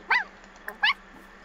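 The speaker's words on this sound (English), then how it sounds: "Here is the puppy." A puppy in the video game The Sims 4 Cats & Dogs gives two short, high yips about three quarters of a second apart, with a faint soft blip between them, close and clear with no talking.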